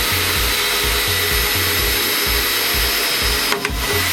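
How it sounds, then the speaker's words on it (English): A hole saw, run after a pilot hole, cuts slowly through a panel while fitting an intercooler and intake on a Nissan S15 Silvia. It gives a steady, close, loud whirring drone with a faint repeating low throb and a brief catch near the end. "And then hit it with the hole saw."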